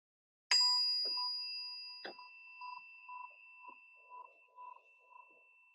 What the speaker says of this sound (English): I'm going to invite you to continue doing this as I ring the bell